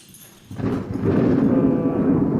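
A deep, rumbling roar of thunder from a horror film's thunderstorm swells in after a quiet start and keeps rolling loudly, with a dense low-frequency body.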